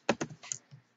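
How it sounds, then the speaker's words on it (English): Typing on a computer keyboard: a quick burst of a few close, crisp key clicks with short gaps, alone in a quiet room. "Let's type in."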